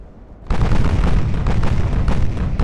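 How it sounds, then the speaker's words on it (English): A torpedo strikes a ship in the naval battle game Ultimate Admiral: Dreadnoughts, giving a sudden loud booming blast followed by a sustained rumbling roar of explosion and battle noise, without talking. "Another torpedo hit"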